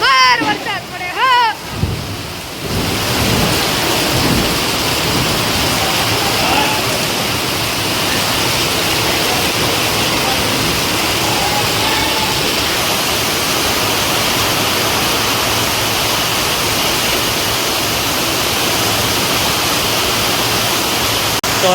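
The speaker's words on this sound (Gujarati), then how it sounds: "તો અત્યારે જો ધોધમાર વરસાદ પડી ગયો છે" Heavy downpour in a village, a steady dense roar of rain that stays loud and unbroken throughout, with a few brief sounds near the start before the rain takes over.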